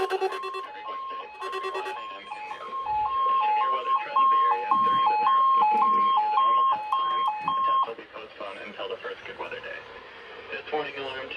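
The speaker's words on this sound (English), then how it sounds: "Warning alarm tone will be activated for watches, warnings" An emergency alert system warning tone plays over the radio, a loud alternating two-pitch beeping that repeats for about five seconds, with radio speech before and after it.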